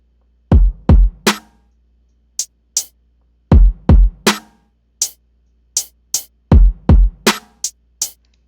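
Basic programmed drum pattern of kick, snare and hi-hat built in FL Studio: punchy kicks and snappy snares alternate with crisp short hi-hat ticks in a repeating loop, clean with silence between hits.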